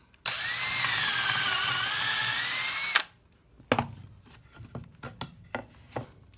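A power drill bores a hole through a small piece of blue tape, giving one loud continuous whine for about three seconds that stops abruptly, followed by scattered clicks and handling taps.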